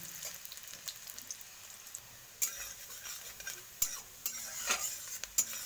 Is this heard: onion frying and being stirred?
yes